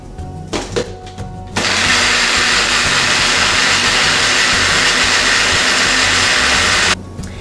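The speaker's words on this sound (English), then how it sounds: "I'm going to blend all of these ingredients together." A blender purees cilantro pasta sauce ingredients with salt and pepper: after a few short clatters and pulses it runs as a loud, steady, close whine for about five seconds, then stops abruptly.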